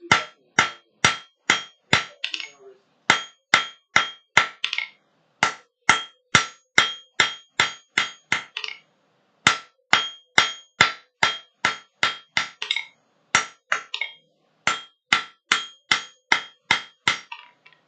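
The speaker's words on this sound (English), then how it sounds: "that's my first time forging. As far as you know, this is stainless steel." A hammer forging stainless steel, struck in steady bursts of ringing metallic blows with short pauses between runs, loud and close with no voices.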